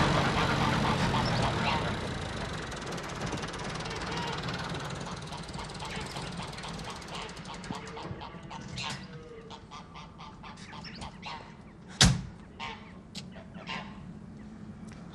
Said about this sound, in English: I'm just going to feed the geese